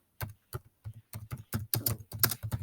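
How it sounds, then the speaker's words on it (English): Keys clack on a computer keyboard while someone types text into Google Docs, in short close bursts with an uneven rhythm and quiet gaps between them, with no talking. "press on the return key and just give it a little bit more space, and then write a short description"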